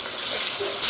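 Water pours from a pipe into a container at home, a steady hissing gush that swells louder near the end, with no talking.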